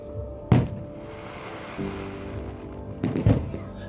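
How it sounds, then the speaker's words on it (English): Fireworks at a local festival, heard from a distance: two heavy booming thuds a few seconds apart, each trailing off in a rumble, with faint crackling between them. "we headed off to go watch some fireworks at a local festival"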